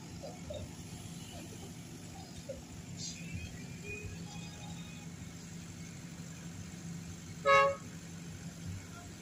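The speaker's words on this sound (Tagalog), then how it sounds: "So, traffic talaga, no?" Evening city road traffic in Davao City rumbles faintly in the background, with light scattered engine noise and a single short, clear car horn toot standing out near the end.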